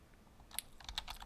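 A computer keyboard being typed on at close range gives a quick run of several crisp key clicks, ending in a firmer tap like the Enter key, all short and fairly quiet.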